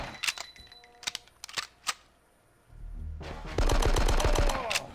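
Gunfire in the Die Hard: Nakatomi Plaza video game: several separated sharp shots first, then a dense rapid automatic burst with a low rumble, loud and close, and no talking.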